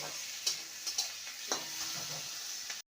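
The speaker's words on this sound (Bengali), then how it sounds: "পেঁয়াজ আর টমেটোকে ভালো করে ভেজে নিয়েছি" Onion, tomato and green chilies fry in a pan with a soft, steady sizzle, broken by a few light clicks and scrapes of stirring, quiet and close, with no voices.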